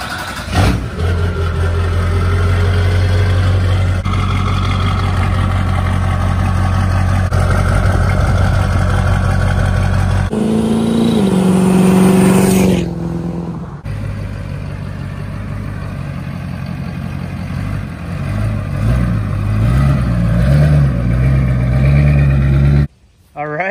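A Duramax diesel pickup truck engine drones and revs while driving, shifting pitch as it accelerates, with people talking over the steady rumble inside the cab.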